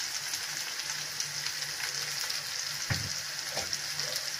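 Okra frying with spices in a pan gives a steady broadband sizzle, with a few clinks and scrapes of a utensil stirring through it near the end. No one speaks.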